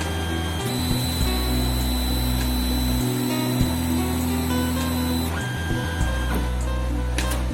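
A Geeetech A20 3D printer's stepper motors whir steadily as the head repositions, a continuous mechanical hum with shifting tones and small clicks, close and alone without talk.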